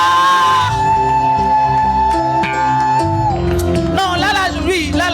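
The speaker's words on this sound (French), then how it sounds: "est-ce qu'on peut pousser des cris de joie?" A church congregation shouts cries of joy, a loud massed roar of voices and whoops building into excited, rising cries toward the end.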